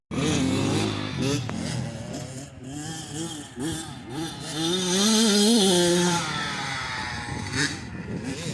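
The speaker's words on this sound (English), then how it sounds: "The bike is completely blown up. The gears shattered apart inside of the engine." A youth racing motorcycle engine revs hard with sweeping, wavering pitch, loud and close. The sound turns rough and strained throughout, with no clean idle.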